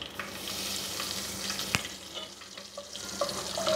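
Cumin seeds frying in hot oil for a Pakistani potato curry, a dense crackling sizzle with small pops and light stirring clicks, close and continuous with no talking.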